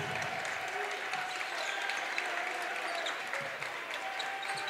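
Steady, dense clapping from a crowd in a gym during a high school boys' basketball playoff game between River Falls and Onalaska. The applause holds at a constant level throughout with faint speech beneath it.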